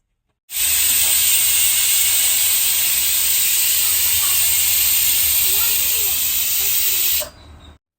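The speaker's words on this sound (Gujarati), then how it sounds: "કુકરને અત્યારે આપણે ઓછામાં ઓછી 2 કે 3 સીટી વગાડવાની છે" A pressure cooker cooking dal pulao lets out a loud, sustained hiss of steam for about seven seconds, starting abruptly and cutting off near the end, heard up close.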